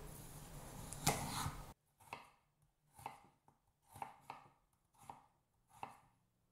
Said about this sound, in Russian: Картофель нарезаю достаточно крупной соломкой.